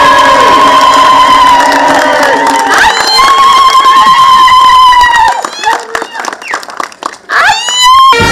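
A loud crowd at a tribute event for Uhuru Kenyatta cheers, shouts and ululates, with high wavering trilling voices rising over dense noise and a few claps, thinning briefly before swelling again.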